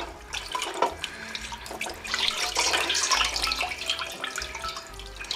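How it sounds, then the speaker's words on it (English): Hot water diluted with cold is poured off into a kitchen sink while preparing a roast chicken, a continuous splashing gush of running water close by, with no talk. "Pour some of the water off."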